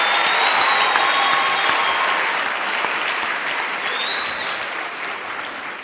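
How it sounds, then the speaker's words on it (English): Sustained applause from a large graduation ceremony audience at a university honorary doctorate event, dense steady clapping filling the hall and slowly tapering near the end. "I would like to suggest we give them a big round of applause."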